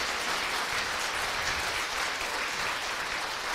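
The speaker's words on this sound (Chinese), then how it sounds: "热烈掌声，赞美主" A church congregation at an Easter Sunday praise service claps warmly, a dense, steady wash of applause that holds throughout without a break.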